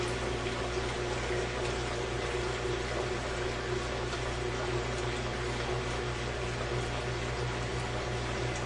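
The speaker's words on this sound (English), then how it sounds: "When the washer starts the spin cycle, the water starts draining from the machine." A Whirlpool washing machine drains its water as the spin cycle begins, a steady rushing gurgle over a constant low motor and pump hum that runs unbroken throughout.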